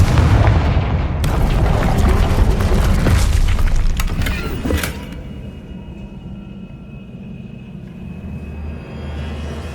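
Confringo spell explosion in the Hogwarts Legacy video game: a loud, close blast with a heavy rumble and crackling debris, followed by sharp cracks that fade into a quieter, lingering low rumble.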